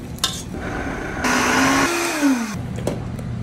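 A blender purees acorn squash soup made with coconut cream, parsley and canola oil: a loud, steady whir lasting a little over a second, with its pitch shifting as the motor works through the thick mixture, set against quieter kitchen background noise.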